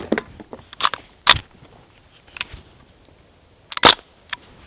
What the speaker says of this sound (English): You might notice it wasn't very loud. It's because it's actually a BB gun.